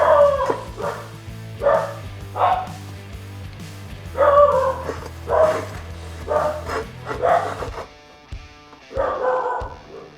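Dog barking repeatedly in bursts during indoor chipped tile repair work, fairly close and loud, with a low steady hum and some clatter beneath the barks.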